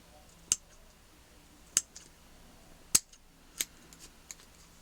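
Several sharp snips of scissors trimming the end of an accordion strap, spaced irregularly, close and crisp against a quiet background.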